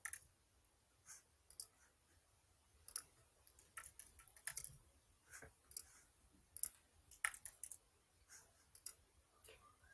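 Quiet, crisp computer mouse clicks while tagging faces in photo software, scattered single and double clicks in uneven clusters over a faint, near-silent background.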